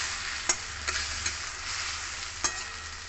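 Mustard-poppy spice paste with green chilli frying in a pan, a soft steady sizzle broken by a few light scrapes as it is stirred, fairly quiet and close, no voices.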